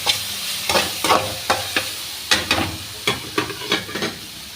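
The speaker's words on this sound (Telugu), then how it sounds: "దొండకాయ ఫ్రై చేసేస్తున్నాను" Ivy gourd (dondakaya) frying in a pan, a steady sizzle broken by a dozen or so quick scraping stirs in an uneven rhythm, close and fairly clear.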